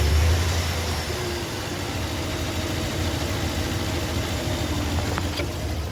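A 2021 RAM 1500 pickup truck engine idles steadily and close after a cold start, a constant low rumble with a mechanical whir and no voices over it.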